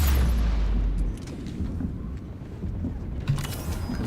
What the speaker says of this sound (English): who's throwing all these grenades?